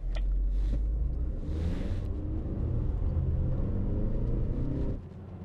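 A Chery Tiggo 7 Pro and a Nissan Qashqai accelerating hard side by side in a drag race, with a loud, steady engine roar and road rumble that drops off sharply near the end.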